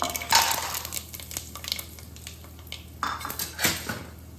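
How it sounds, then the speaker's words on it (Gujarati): Moong dal vadis dropped into hot oil in a pan, with scattered clinks and scrapes of a metal spoon against the pan, a few sharper knocks and a faint background sizzle. "હવે આપણે એમાં આપણી મગની દાળની વડીઓ નાખીશું."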